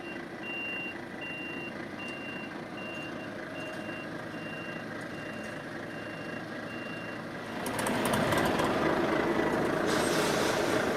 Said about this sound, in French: Je vais donc maintenant pouvoir approcher le tracteur sous la remorque.